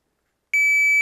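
A single sharp electronic beep from a shot timer at an outdoor shooting range, loud and steady for about half a second, after a moment of silence.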